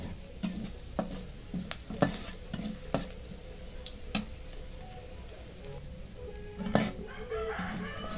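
Whole cumin seeds crackle in hot oil in a home kitchen, with soft sizzling and scattered sharp clinks of a spoon against the pan, while a rooster crows faintly in the background.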